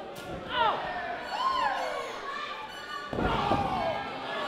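Two heavy thuds land as strikes to the midsection during a pro wrestling match, heard amid crowd noise and voices in an indoor arena.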